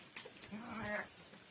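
A single close, wavering bleat comes from young lambs kept in their pen on a rainy day.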